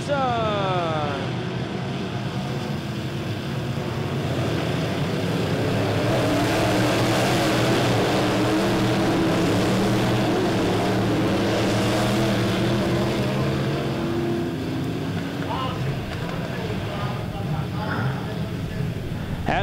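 Midwest Modified race cars roar around the dirt track at Lebanon Midway Speedway in an A-Main race, engines revving loudly and sweeping past while a commentator talks over the noise.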